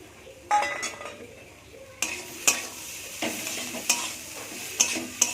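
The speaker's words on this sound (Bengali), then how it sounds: "সব কিছু ভালো করে ভাজা হয়ে গেছে" Prawns and papaya with salt and turmeric fry in a pan. A sizzle builds while a metal spatula stirs, striking the pan with sharp clinks about once a second, close and clear, with no talk.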